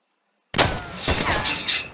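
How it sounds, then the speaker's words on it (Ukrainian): After half a second of silence, gunfire starts abruptly near the Chernobyl nuclear power plant area in Pripyat. A sharp loud report is followed by another crack and a rolling, reverberant rumble, and no one speaks. "Вони стріляють по мені! Він стріляє по мені, друзі!"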